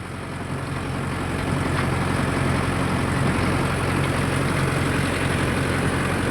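Mahindra Yuvo Tech Plus 585 4WD tractor running a 42-blade rotavator in a mango farm field, a steady low diesel drone that holds constant and near throughout with no pauses.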